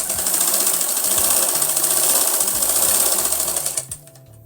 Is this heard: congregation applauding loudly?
no